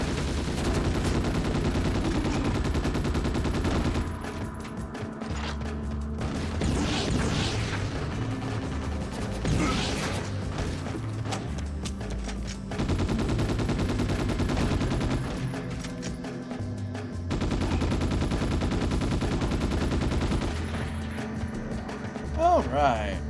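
Long stretches of sustained in-game shooting in Ghost in the Shell Stand Alone Complex, dense gunfire with short pauses between bursts and game sound effects mixed in.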